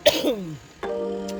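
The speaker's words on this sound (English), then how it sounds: "Didn't want to cough in your face." A single person coughs and clears their throat, close and brief, followed by a short voiced hum.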